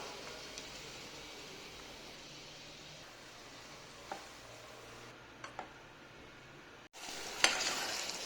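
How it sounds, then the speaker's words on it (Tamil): Adai and jaggery syrup simmer in a pan while being stirred: a faint, soft bubbling with occasional light scrapes and clicks, and a louder burst of sizzling near the end. "ஊற்றிட்டு இந்த அடையும் வெல்லமும் நல்லா மிக்ஸ் ஆகி வத்துற வரைக்கும் வேக விட்டுறலாம்"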